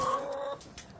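A Black Brahma hen in a backyard coop gives a short, close, soft cluck, then falls quiet.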